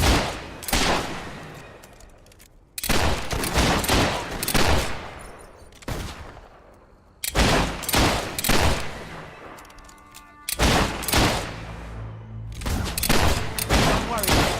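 Gunfire in the video game Fable III, loud rapid volleys and bursts of shots in several long clusters with short gaps, close and dense, with brief voices among the shots.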